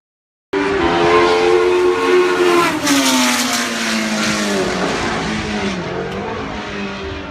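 A 1977 McLaren M26 Formula 1 car roars past at Brands Hatch, loud and close, its engine note falling as it passes and then crackling on the overrun, with no talk over it.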